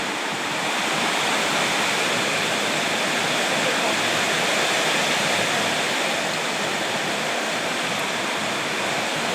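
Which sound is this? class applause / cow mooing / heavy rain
heavy rain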